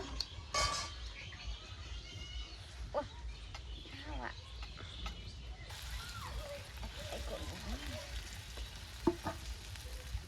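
Puffed rice tipped into hot oil sizzles and crackles in a steady frying hiss that grows denser partway through, with a person talking over it.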